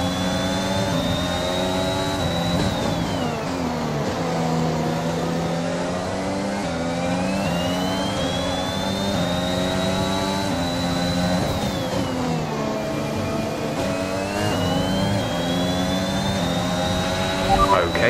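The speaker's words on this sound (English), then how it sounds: "we have a severe engine issue" An F1 2021 race car with a severe engine issue drones and whines continuously in the video game, its pitch rising and falling with gear changes and speed over a steady, loud run.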